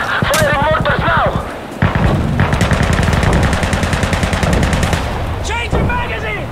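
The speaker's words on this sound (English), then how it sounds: "Firing mortars now!" Mortars and heavy gunfire in the video game Insurgency Sandstorm, a long rapid run of loud shots and thumps with shouting voices over the top.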